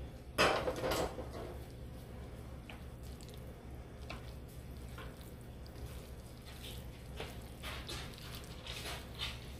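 A spoon stirs a turkey stuffing mixture for stuffed pasta shells in a pan, making close, moist squishing and scraping sounds with occasional light clinks against the pan.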